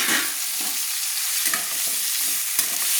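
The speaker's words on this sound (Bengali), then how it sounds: "দিয়ে আবারও ভালো করে আমি নেড়ে নিচ্ছি।" Cut potatoes fry in a pan while being stirred, a loud continuous close sizzle with scraping strokes of a spoon repeating every half second or so.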